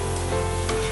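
Ghee and the fried ingredients in it sizzle loudly and continuously as they are poured over tomato shorba, a brief, close burst of spitting hiss.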